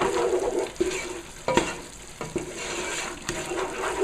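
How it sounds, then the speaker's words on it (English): Roux stirred in a pan for a veggie pot pie filling, giving a soft continuous scraping and sizzling texture with a few sharper utensil scrapes against the pan bottom, close and steady with no talking. "Just continue stirring it. You don't want your roux to burn or stick to the bottom of your pan."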